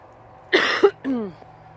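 A single harsh cough from hay dust close to the mic, followed by a brief voiced throat sound, with a quiet hum underneath.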